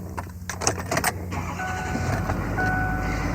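A 2007/2008 Ford F-Series diesel truck starting in cold weather at minus 20 degrees: a few clicks and clatters, then the engine catches and settles into a steady low idle rumble with a faint whine.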